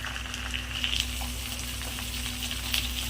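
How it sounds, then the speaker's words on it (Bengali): Spice masala of salt, chili powder, turmeric and cumin powder fries in a pan for a shrimp and pointed gourd dish, with a steady close sizzle and faint scraping stirs throughout and no talking. "ভালো করে মশলাটাকে আমি ভেজে নেব।"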